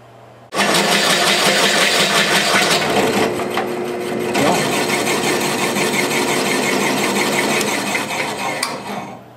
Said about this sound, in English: I'm gonna cut through this